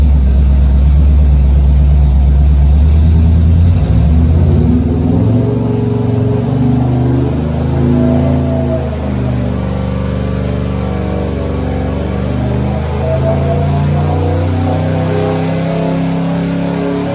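A Pontiac 400 V8 fitted with a Summit 2802 camshaft revs hard through a dyno pull in a test cell, a loud, steady engine roar climbing in pitch and then holding at high revs with no voices.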